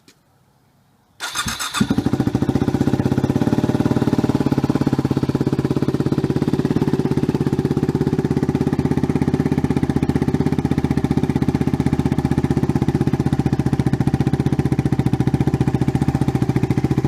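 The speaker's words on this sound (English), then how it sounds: "we got a stock WR250R with just a slight change. No baffle in the exhaust." A stock Yamaha WR250R motorcycle with its exhaust baffle removed starts up after a brief crank, then holds a loud, steady, raspy idle up close for the rest of the time.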